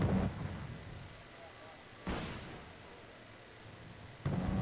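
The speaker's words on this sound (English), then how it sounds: "And then again we have rocket barrage incoming" A rocket barrage in the Wargame Red Dragon strategy game comes through as three separate booming impacts spaced a couple of seconds apart, with faint rumble between them.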